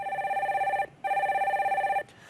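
A telephone on a call-in broadcast rings in two loud, warbling electronic bursts with a short gap between them, then cuts off.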